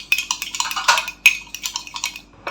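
A metal spoon stirs Nescafé instant coffee with a little water in a glass, making a quick run of light, close clinks against the sides at an uneven but steady rhythm.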